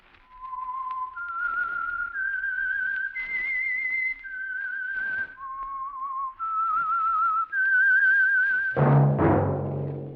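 A clear whistled radio theme tune, a slow series of held and wavering notes stepping up and down, ending with a loud low orchestral chord.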